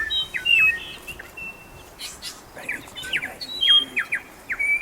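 Several New Zealand bellbirds call in the bush during the red stag roar season, giving bright, ringing chirps and short liquid phrases in repeated bursts, close and fairly loud, overlapping one another with no talking.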